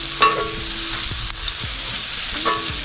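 Tongs toss sizzling peppers and onions on a grill for a pepper steak sandwich, with a steady close frying hiss and a few light metallic taps and scrapes.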